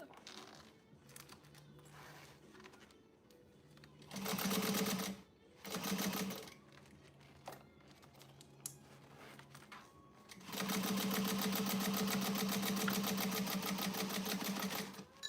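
A sewing machine runs basting stitches in two short bursts and then one long, steady, loud run, with quieter handling and rustling between.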